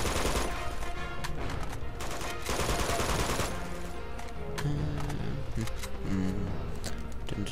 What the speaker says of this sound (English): I'm gonna have to kill you guys with my assault rifle